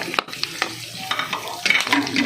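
Onion and garlic sautéing in a pan for dinuguan, a Filipino pork blood stew: a close, steady sizzle broken by sharp scrapes and clicks of a spoon stirring against the metal, with no talking.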